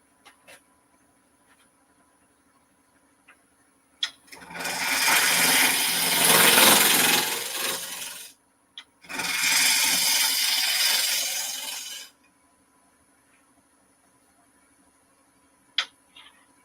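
A wood lathe spinning a small bowl of very green maple at about 1200 RPM gives two loud bursts of scraping, hissing cutting of roughly four and three seconds, with quiet ticks and knocks between and around them.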